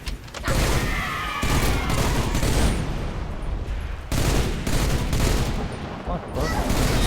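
Sustained gunfire and thudding impacts from the video game Halo Reach, played on a Heroic solo run of the Nightfall mission, with dense bursts and brief gaps throughout.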